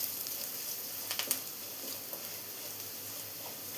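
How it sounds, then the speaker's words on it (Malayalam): Chilli masala frying in a pan on a low simmer gives a steady close sizzling hiss throughout, with a few faint clicks and scrapes from stirring. "ഇതുപോലെ ചില്ലിയെല്ലാം ചേർത്ത് കൊടുക്കുമ്പോൾ നമ്മൾ സിമ്മിൽ വെച്ചിട്ട് വേണം നമ്മൾ ഇതുപോലെ ഒന്ന് ഇളക്കി ഫ്രൈ ചെയ്തെടുക്കാൻ"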